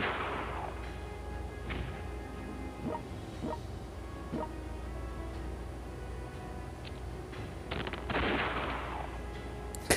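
Gunfire and artillery bombardment from the strategy video game World Conqueror 1945: a dense battle din with repeated sharp shot cracks and heavier booming blasts over a constant rumbling background, with no one speaking.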